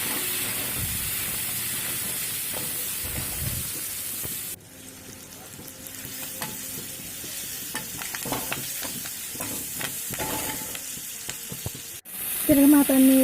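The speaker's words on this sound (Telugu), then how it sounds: "తిరగమాతన్ని వేసేసి ఇప్పుడు టమాటాలు కూడా చేసుకుంటున్నారు కదండి." Tempering and tomatoes fry in a pan for an okra tomato curry, a continuous close sizzle broken by stirring scrapes, fading briefly mid-way before a sharper burst of hissing near the end.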